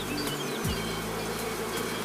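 A honeybee colony buzzes inside a hive packed with active foragers, a dense steady drone filling the sound throughout with a low hum shifting briefly near the start.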